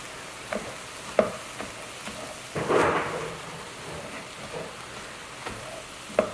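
A spatula stirs and scrapes cauliflower fried rice tossed with an onion, salt and pepper spice mix in a hot pan, giving intermittent scraping clicks and one brief swell of louder sizzling.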